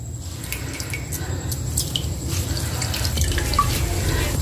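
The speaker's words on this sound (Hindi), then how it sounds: "ये मैंने स्लाइस ली है और ये पानी में डिप करके मैं एक बाउल में डालती जा रही हूँ सारे स्लाइस।" Bread slices dipped in water drip into a bowl in a home kitchen, giving soft, scattered drips and light splashes over a steady watery background, with no talking.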